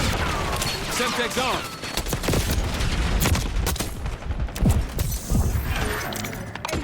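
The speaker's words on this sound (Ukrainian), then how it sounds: "Боже, як я жахливо зараз стріляю." Rapid bursts of Black Ops 6 gunfire in a Hardpoint match, repeated volleys and single shots in quick succession, loud and close, with a voice talking over them.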